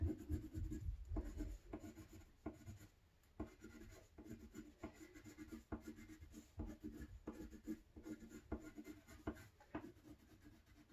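Pencil pressed hard on paper, scratching in continuous, uneven strokes, close and scratchy, with no talking.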